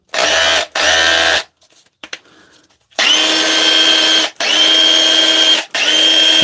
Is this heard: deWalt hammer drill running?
yes